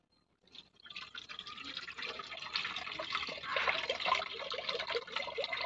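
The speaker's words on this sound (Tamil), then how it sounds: "ஸோ இந்த புளி வந்து நம்ம கரைச்சி இதில் ஊற்றிக்கலாம் வாங்க" Soaked tamarind water is poured into a pan for a village-style sardine curry, making a close, steady splashing trickle that builds after a brief silent start and continues without talk.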